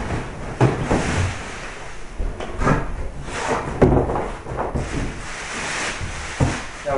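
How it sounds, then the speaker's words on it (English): A cardboard box holding tanning bed parts is opened, giving irregular scraping, flap thumps and rustling knocks at close range, several sharp bumps scattered across the few seconds. "So we're going to open the box."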